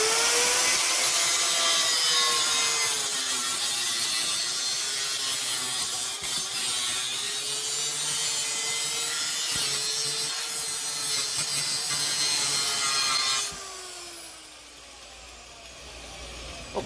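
Metal hose clips on a custom motorcycle exhaust being cut off with a tool, a steady harsh rasping grind running for about thirteen seconds, then stopping abruptly into a quieter hum.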